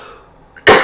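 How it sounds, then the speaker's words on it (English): A single sharp cough bursts out near the end, loud and close, after a brief quiet moment with a faint throat sound. "excuse me, I'm going to stop and cough"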